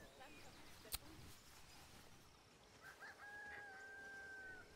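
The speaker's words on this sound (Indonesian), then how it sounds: "Lah, itu suara ayam." Chicken clucking and crowing in the Planet Zoo video game, faint and distant, with a thin rising call near the end over a soft noisy background, one sharp click early on.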